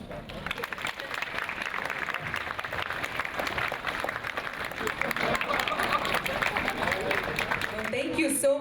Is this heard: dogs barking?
no